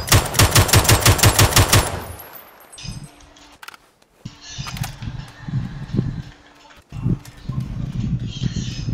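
An M249 light machine gun in PUBG lets off a loud, rapid sustained burst for about two seconds, then falls silent as people talk over quieter game sounds.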